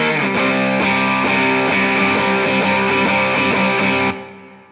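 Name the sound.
distorted electric guitar playing a song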